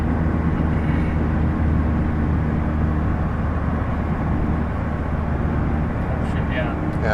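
A 2016 Mazda MX-5 Miata RoadsterSport with a race exhaust drones steadily at full throttle, a loud continuous engine roar filling the cabin from a driver's point of view.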